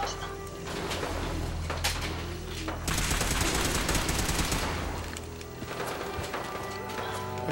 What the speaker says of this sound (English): What's shooting at us now?